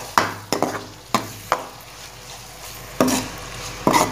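Chopped tomato and fried garlic are stirred in a pan. A spoon knocks and scrapes in sharp, spaced strokes over a low sizzle, close and fairly loud, with no voices.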